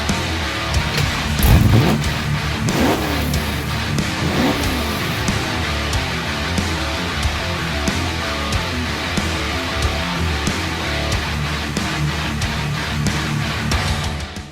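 A Holden HZ car engine, newly installed in a restoration build, runs loudly and continuously, with a few rising revs early on and a steady rumbling drone throughout.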